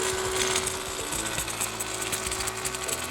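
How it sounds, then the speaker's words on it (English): Adaptive robotic welding machine running a bead over a tack weld in a joint, a steady dense crackling hiss with a low mechanical hum underneath, continuous and fairly loud throughout with no talking. "It's currently welding over the tack."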